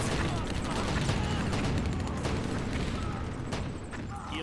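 Artillery fire in the WWII strategy game Blitzkrieg sounds as a dense, continuous barrage of booms and crackling blasts. A brief unit voice line can be heard faintly under it.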